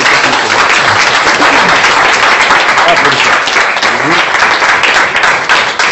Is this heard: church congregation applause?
yes